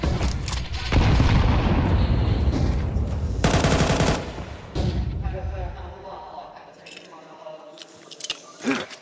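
Rapid MP9 submachine gun and pistol fire in a Counter-Strike esports match, dense bursts of shots and impacts packed close together, with a caster talking over much of the action.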